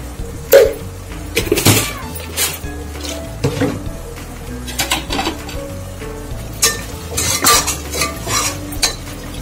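Spice masala roasting in a pan for a bottle gourd curry, with a continuous sizzle under irregular scrapes and clinks of a metal spoon stirring against the pan, close and fairly loud.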